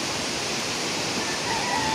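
Floodwater rushes through a swollen creek during heavy overnight rain, a steady, dense roar of turbulent water that stays loud and unbroken throughout.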